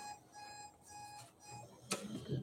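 An electronic alarm beeps during a municipal council meeting, a faint repeating series of steady tones with a brief louder clatter near the end.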